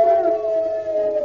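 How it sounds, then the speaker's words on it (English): A hound gives a single sustained, mournful howl, loud and close, holding a steady pitch for just over a second. "There's a whole pack of horrible hounds."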